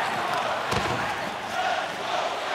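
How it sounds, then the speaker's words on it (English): Arena crowd noise from the NHL 23 video game during a tied hockey game, a steady, loud roar of cheering that fills the whole clip without letting up. "You can feel the energy in this crowd."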